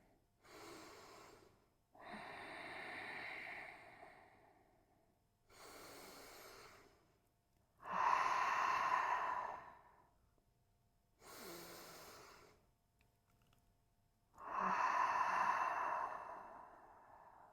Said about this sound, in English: We'll take 3 breaths here.